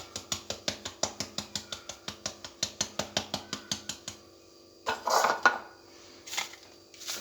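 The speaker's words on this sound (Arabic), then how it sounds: "كنغربلوه." Flour is sifted for a cake through a metal sieve, producing a close, even series of about twenty sharp tapping clinks, then a pause followed by a few scattered scraping and rattling sounds.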